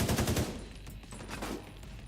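Rapid gunfire from automatic weapons in the shooter game The Division, a burst of loud shots at the start followed by quieter scattered fire and game ambience.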